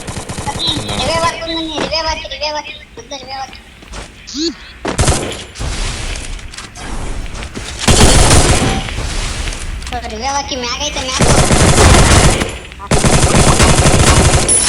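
Automatic gunfire rattles through a battle royale game in long loud bursts and shorter volleys, with game sound effects and a player's voice heard in the gaps between shots.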